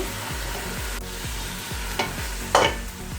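Vegetables sautéing in a hot pan for soya biryani, a steady close sizzle with rhythmic stirring scrapes roughly every half second and a sharper clatter near the end, no voices.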